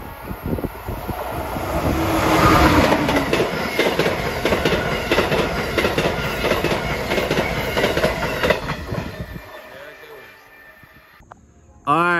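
Southbound train passing at about 90 miles per hour, loud and close, with continuous rumble and rapid clickety-clack of wheels building and sustained for several seconds, then dropping away abruptly; people talk near the end.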